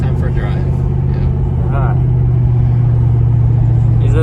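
A 2003 Ford Mustang Mach 1 cruises along at night, its engine a steady loud low rumble inside the cabin, with people talking over it now and then.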